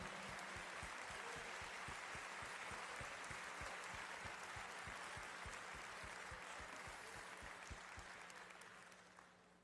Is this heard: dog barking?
no